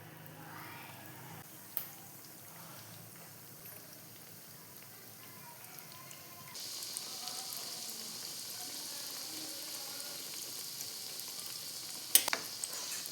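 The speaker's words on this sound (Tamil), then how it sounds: "வாணலில் எண்ணெய் சூடு பண்ணிக்கலாம். ரோலையும் எடுத்து இதில் போட்டுக்கலாம்." Chicken bread rolls fry in hot oil in a wok with a soft, continuous bubbling hiss. The sizzle grows noticeably louder partway through and holds steady, with a sharp clink near the end.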